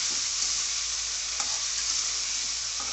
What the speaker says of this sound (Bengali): মাছের মাথাটা মশলার সাথে কষাবো তবে মশলাটা ভিতরে ভালোভাবে ঢুকছে